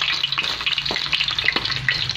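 Carp sizzles steadily in a hot pan, a continuous close frying crackle with bursts of spitting and brief stirring scrapes, no voices.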